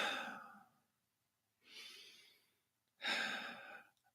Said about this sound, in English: Taking just little breaths like